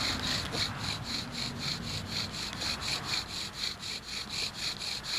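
A pine bow drill spins back and forth against a wooden board to build friction for fire, a steady rasping, sawing rhythm of repeated strokes, close and moderately loud, with no talking.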